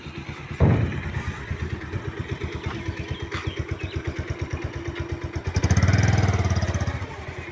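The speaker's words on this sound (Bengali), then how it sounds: "এই যে মোটর বাইক উঠতেছে, বগা ফেরিঘাটের বাইক।" A motorbike boards a ferry at Boga ferry ghat, its engine chugging in a steady, rapid pulse close by, with a sharp clank at the start and a louder rev swelling near the end.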